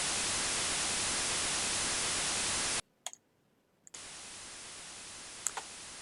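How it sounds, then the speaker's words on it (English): Loud, steady white noise hiss from an Amiga synthesizer fills the first few seconds, cuts to near silence with a couple of faint clicks, then returns quieter. "this device here that I've got here will basically fill the buffer with white noise"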